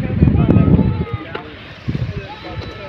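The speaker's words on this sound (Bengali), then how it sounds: "আজকেও প্রচুর পরিমাণ বাতাস" Strong wind blowing across a river during fishing, a loud rough rumble of gusts against the microphone with waves sloshing, rising and easing in bursts.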